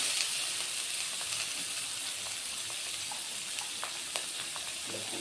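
Potatoes and pointed gourd frying in hot oil in a pan, a steady close sizzle with occasional light clicks of stirring, no voices.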